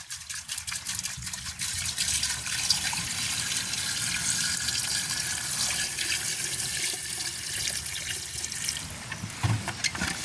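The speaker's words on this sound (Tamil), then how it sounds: "இப்போ நாங்கள் அதுக்கு அளவான தண்ணி விடுவோம்." Water pours steadily into a cooking pot holding corn, a continuous close gushing and splashing that runs unbroken throughout.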